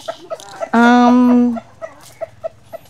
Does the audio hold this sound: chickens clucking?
yes